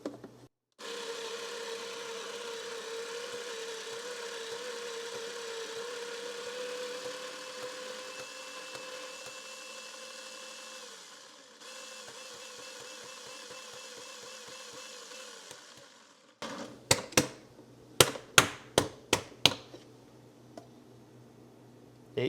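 A coffee grinder grinds 19 grams of Black Lotus Colombian espresso beans in a steady, close motorized whir for about fifteen seconds, its pitch shifting slightly midway, followed by a series of sharp taps and knocks.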